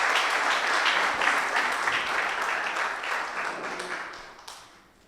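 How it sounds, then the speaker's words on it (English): Audience applause after a presentation at a 3MT research competition, dense sustained clapping from many hands that gradually fades out toward the end. "Give Mr. Atule Nganibani a round of applause"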